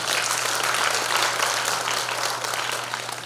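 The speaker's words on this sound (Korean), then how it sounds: "박수 한번 부탁드리겠습니다" A hall full of delegates clapping steadily at a Democratic Party convention in Jungnang, a thick continuous patter of applause, loud and unbroken, tapering slightly at the end.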